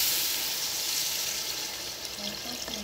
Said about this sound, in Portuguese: Vocês colocam a água, uma quantidade de água para cobrir o arroz.